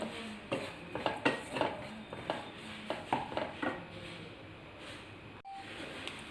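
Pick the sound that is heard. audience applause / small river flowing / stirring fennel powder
stirring fennel powder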